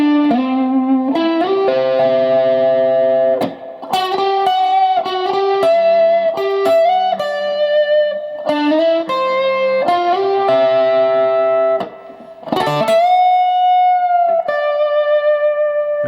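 An electric guitar with effects plays a solo lick, with sustained, bending notes and quick pick attacks in flowing phrases, loud and up close, unaccompanied and without voices.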